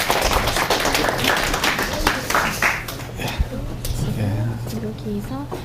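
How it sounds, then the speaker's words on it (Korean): A room claps loudly and densely to open a professor's lecture on visible-light wireless communication, then the applause fades as a voice begins speaking. "멋진 또 박수로 교수님의 강연을 시작하도록 하겠습니다"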